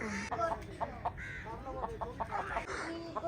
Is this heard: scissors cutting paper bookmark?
no